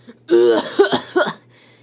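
A voice performs a few theatrical coughs in quick succession, close and clear, imitating a coughing fit.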